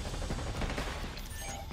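Continuous gunfire in the video game Black Ops 6, a dense crackling rattle of shots running without pause for under two seconds, loud and close with no clear gaps.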